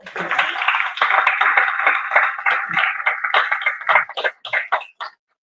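An audience at a creative career fair claps for a panel session, a dense burst of many hands close by that thins into scattered claps and stops.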